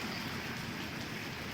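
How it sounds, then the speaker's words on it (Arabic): Heavy rain pours steadily outside a balcony during a winter storm, a dense continuous hiss of drops spattering on surfaces, fairly close and unbroken, with no voices. "شايفين الشتاء الدنيا بتشتي على فكره ومغرقه الدنيا"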